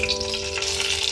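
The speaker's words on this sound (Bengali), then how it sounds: "এবারে সম্বার দেব।" Bay leaves and fennel seeds for black gram dal hiss and sizzle steadily in hot oil, a close, continuous frying crackle over a low, constant hum, with no voices.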